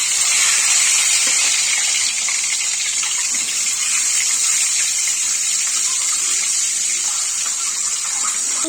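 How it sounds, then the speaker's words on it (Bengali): Eggs frying in hot oil in a pan with turmeric, a steady loud hiss and crackle of sizzling fat that runs continuously without pause, close to the microphone. "এবার ডিমগুলো তেলের মধ্যে ছেড়ে দিচ্ছি"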